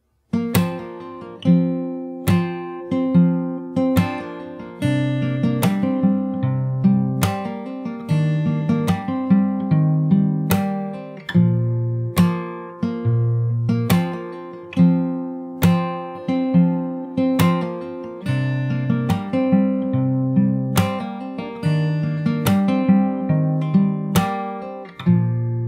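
Fingerstyle acoustic guitar plays the verse of a song, with steady plucked chords over a repeating bass line, close and clear, with no voices.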